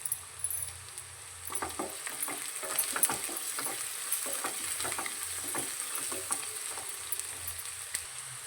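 Green chillies sizzling gently in a pan for hotel-style chicken white biryani, a soft, steady fry with occasional scraping stirs, fairly quiet and close with no talking.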